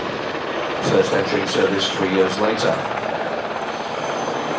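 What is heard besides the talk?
Mi-171Sh Hippo military transport helicopter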